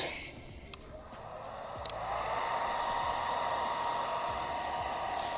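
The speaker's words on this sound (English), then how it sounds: "is using a blow dryer and blow drying the adhesion, or the tape" A household blow dryer heats the adhesive tape on a matte carbon fiber rear spoiler for a Tesla Model 3, a steady close whooshing hiss that grows louder and stays level, with no talking.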